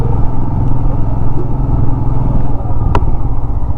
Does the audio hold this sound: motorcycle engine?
yes